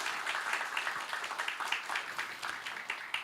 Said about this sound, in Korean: 조금 전에 정말 열강을 해주신 교수님께 다시 한번 큰 박수 좀 주시기 바랍니다.